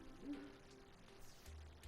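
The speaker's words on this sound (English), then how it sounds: "That owl is so loud." A single owl in the video game Terraria gives a short low hoot, fairly quiet, followed by faint ambient game sounds.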